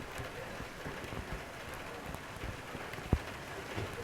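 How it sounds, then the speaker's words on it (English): Heavy rain pours down at the Perth Hockey Stadium during a women's hockey match, a steady dense hiss throughout with a single sharp knock near the end. "the rain really is pouring down"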